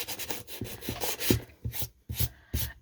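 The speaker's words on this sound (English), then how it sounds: "a little quick sanding to make it even and nice and flat" Quick hand sanding over spackle-filled holes on a wooden doll shelf, a series of short rasping rubs in uneven rhythm, close and moderately quiet with no talk.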